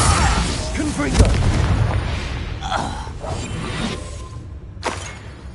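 A Confringo blasting spell going off in Hogwarts Legacy, a whooshing cast and booming burst followed by several quieter crackling impacts and a final sharp pop near the end.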